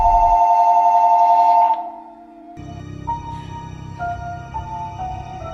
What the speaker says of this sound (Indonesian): ketika dering telepon kembali berbunyi